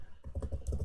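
Rapid keystrokes on a computer keyboard as a command is typed into a Linux terminal, a quick irregular run of close, light clicks with no talking.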